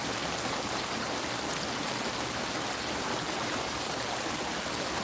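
A creek rushes beside a motel, a loud, constant broadband roar of flowing water that stays unchanged from start to finish with no voices.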